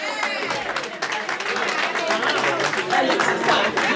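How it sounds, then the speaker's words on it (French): An audience applauds a female pastor at a church evening vigil, sustained dense clapping filling the room, with crowd noise and some voices mixed in. "Je vous demande d'applaudir pour maman Pasteur."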